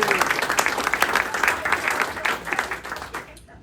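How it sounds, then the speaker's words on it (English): Audience applause for a candidate's mother during a primary victory speech, brisk sustained clapping from a crowd that cuts off abruptly near the end, with some voices mingled in. "round of applause for Mom"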